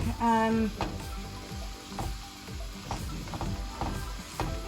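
Minced garlic and ginger fry in a pan, a crisp continuous sizzle broken by scraping spoon strokes while being stirred, near and fairly loud.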